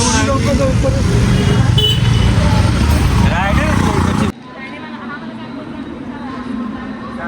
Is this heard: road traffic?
yes